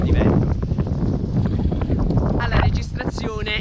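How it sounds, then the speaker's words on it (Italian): A strong gust of wind buffets an outdoor microphone, a loud, sustained roar that swells throughout, with a voice talking over it. "mamma mia che folata di vento"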